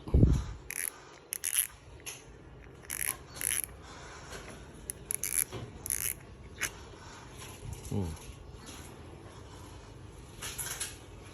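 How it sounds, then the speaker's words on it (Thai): Faint, sharp clicks from a fishing reel's spring-pawl ratchet come in short irregular bursts as it is turned, over a quiet background with occasional soft knocks. "คลิกเสียงเป็นแบบขาเตะสปริงนะครับ"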